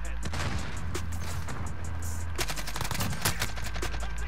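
Sustained AK-74u automatic fire in a first-person shooter video game, with dense rapid bursts of gunshots continuing under steady game noise throughout.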